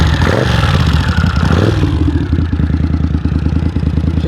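A Honda CX500 cafe racer motorcycle fires up and settles into a loud, close, rapidly pulsing idle with a clattery mechanical edge, after an initial rough churn of starting.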